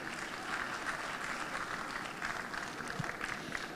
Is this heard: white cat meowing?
no